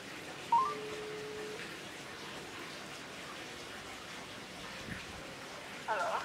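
Telephone dialing tones sound for a radio station call: a short DTMF beep near the start and another burst at the end, both faint over a quiet background hiss.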